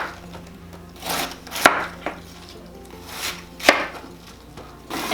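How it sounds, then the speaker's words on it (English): A knife cuts through a head of cabbage into quarters around the core for sauerkraut, with slow crunchy cuts and two sharp thuds of the blade striking the board, close up. "Cut it into fourths around the core."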